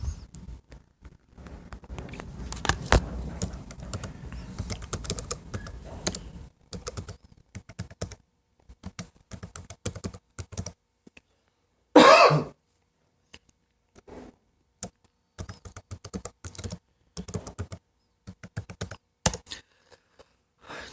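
Someone types a username and password on a computer keyboard, with bursts of close, quick key clicks separated by pauses and one louder clatter midway.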